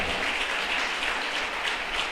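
A church congregation bursts into steady applause during a sermon, a thick, continuous roar of many hands clapping at once with no pauses.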